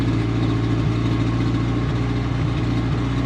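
A Honda Civic AWD car idles while warming up, its engine a steady low rumble with a continuous even hum, close and fairly loud throughout with no talking.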